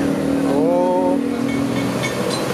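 Engine of a new Rexus SL bus from Po Haryanto revving up, a loud, steady drone whose pitch rises and then settles, heard close with some background noise.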